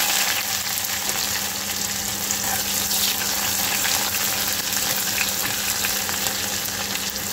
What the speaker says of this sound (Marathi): आता याच्यामध्ये कांदा घालायचा आहे.